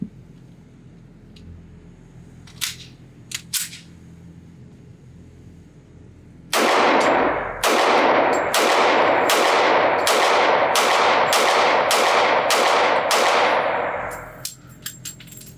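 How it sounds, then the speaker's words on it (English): Rapid string of about ten loud shots from a Walther PPQ .40 S&W striker-fired pistol loaded with hollow point rounds at an outdoor range, following a few faint clinks, then fading into quiet. "Let me just function test this pistol with some hollow points."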